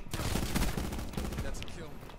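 Gunfire in a video game where a .50 cal sniper rifle is in use, arriving as a dense burst of loud, rapid shots that ring out and trail off over about two seconds.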